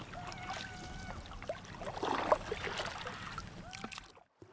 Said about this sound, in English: to make the kayak go forward, we just paddle with one side and then the other.